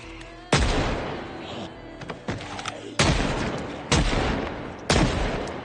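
Gunshots fired into a downed zombie's head in Project Zomboid, four heavy, booming reports spaced about a second apart, each ringing out with a long decaying tail and no talk over them.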